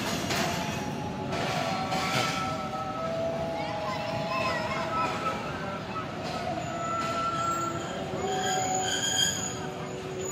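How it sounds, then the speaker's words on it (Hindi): A seven-coach passenger train at Shahdara Bagh Junction rumbles steadily close by, its wheels squealing in long high tones over the constant roar, with voices faintly in the background. "चलें देखते हैं ये ट्रेन कितने मुसाफिरों को अपने अंदर एडजस्ट कर सकती है।"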